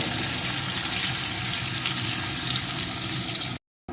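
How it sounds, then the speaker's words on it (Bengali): Chopped onion frying in a pan for a cabbage and prawn dish, a loud, steady close sizzle throughout that cuts off abruptly just before the end. "এখন এর ভিতরে দিয়ে দেবো একটা পেঁয়াজ কুচি পেঁয়াজ কুচিটা একটু লাল লাল করে ভেজে নেব"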